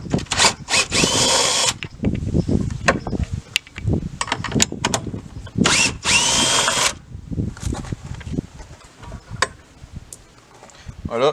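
A power drill whirs in short repeated bursts while backing out tail light screws on a Jeep Cherokee XJ, with clicks and handling noises in the pauses between runs.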